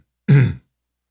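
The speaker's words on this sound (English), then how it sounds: "Voice killer number 1, clearing your throat." A single short throat clear, a rough guttural burst of about a third of a second, loud and close, alone against silence.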